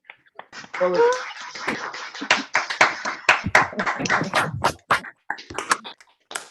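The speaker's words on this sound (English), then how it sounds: "If folks want to just unmute briefly for a hand clap so Dr. Butler can hear your." Scattered hand claps from several people over a video call after a seminary science lecture come through thin and uneven, mixed with a few voices and clipped, compressed bursts of sound.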